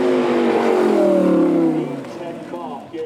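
A Lamborghini Huracan Evo four-wheel-drive supercar at an outdoor supercar show revs loudly up close, its pitch climbing and then falling away as the engine settles, while a voice talks over it.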